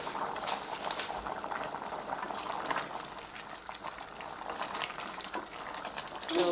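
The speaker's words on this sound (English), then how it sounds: "Our simmer is still going." Kenyan-style beef stew simmering in a covered pot on the stove, a continuous soft bubbling and popping at close range with no talk.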